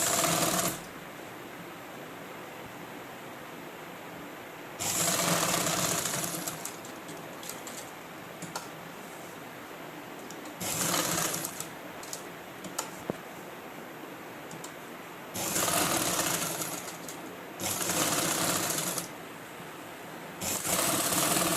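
Sewing machine stitching the collar of a government school uniform coat, running in several loud bursts of rapid rattling stitches separated by quieter pauses, close up with no talking.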